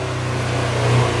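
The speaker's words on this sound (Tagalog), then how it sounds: "dinig nyo naman yung tunog niya ngayon compare kanina, yung talagang bumalik na sa standard yung kanyang tunog ng makina" A motorcycle engine runs steadily at idle after a reset with an MST 500 Pro diagnostic tool, giving a close, even low hum with a slight swell near the end.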